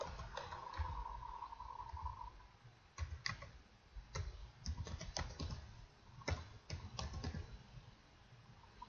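Someone types a host name on a computer keyboard, a run of irregular close key clicks in bursts with short pauses, alone with no talk.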